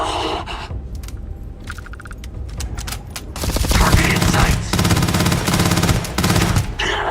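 Weapons fire in the space game Starfield in close quarters: rattling automatic bursts and metallic clinks grow into dense, loud sustained gunfire with brief gaps.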